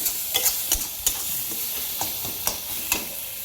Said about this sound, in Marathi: चांगलं मिक्स करून घ्यायचं परतून.